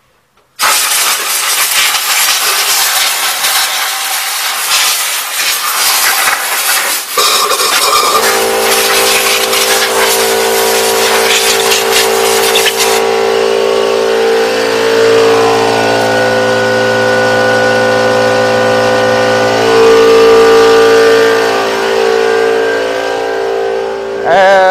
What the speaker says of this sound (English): the air compressor had to kick on